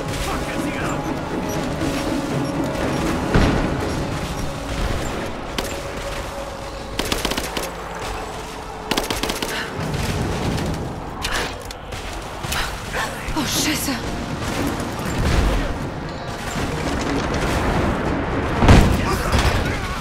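Gunfire in the video game Rise of the Tomb Raider, bursts of rapid automatic shots and crashing impacts over a continuous dense game soundscape, with someone talking over the action.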